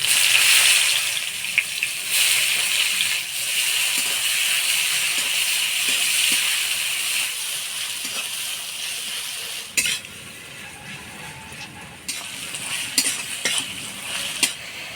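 Chopped onion hitting hot oil spiced with dried chilli, bay leaf, cardamom, cinnamon and cloves, a loud continuous sizzle with occasional spoon scrapes and stirring clinks against the pan, the frying settling lower partway through.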